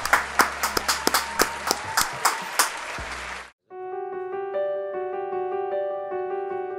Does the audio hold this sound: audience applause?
yes